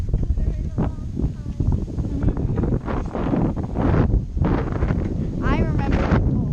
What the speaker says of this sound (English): there goes the wind